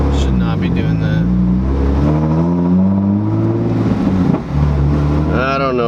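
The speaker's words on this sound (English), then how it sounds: "look how low the idle's dropping. Should not be doing that" A rough-running car engine idles low and unevenly, its tone sagging and wavering as the revs drop, loud and close, with a person talking over it.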